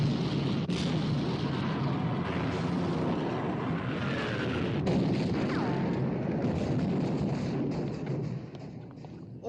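Heavy naval gunfire from a 1960 battleship engagement against the Bismarck, a dense continuous roar of booming blasts and rumbling thuds that stays loud throughout before easing near the end, with no voices.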